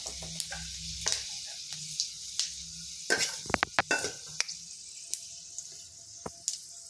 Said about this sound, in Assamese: এতিয়া মই অকণমান পাঁচফোৰণ ফুটিবলৈ দিছোঁ তেলত।